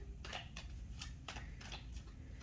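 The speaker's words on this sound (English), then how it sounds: "Let's shuffle one more time." A deck of cards being shuffled during a tarot-style reading, with quick riffling bursts and soft slaps repeating in an irregular rhythm, close but quiet, with no voices.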